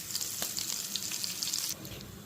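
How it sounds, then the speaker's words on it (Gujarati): Cumin, cinnamon, cloves and curry leaves sizzling in hot ghee, a bright dense crackling hiss with quick pops that drops away slightly near the end. "ઘી ગરમ થઈ ગયું છે, એમાં જીરું, તજ લવિંગ એડ કરશું, મીઠા લીમડાના પાન,"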